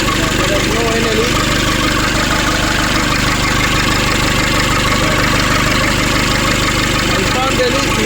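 A restored 2005 Nissan Urvan diesel engine runs after a diesel pump repair, a loud, steady, close idling rumble with a continuous knocking rhythm throughout.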